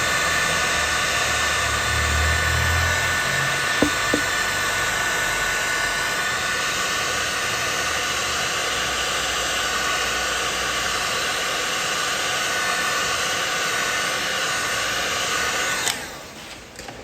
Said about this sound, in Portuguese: E assim ainda vou aquecer a chapa.